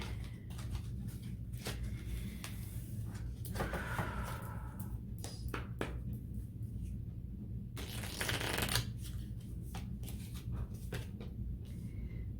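A deck of oracle cards is shuffled by hand in soft repeated riffles and slides, close and fairly quiet, with a brief louder flurry partway through and no talk.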